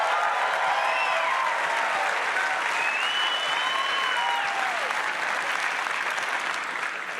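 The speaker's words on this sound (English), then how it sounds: "So I just want to give yourselves a round of applause." A rally crowd applauds, dense sustained clapping that fills the whole stretch with scattered cheers and whoops rising above it.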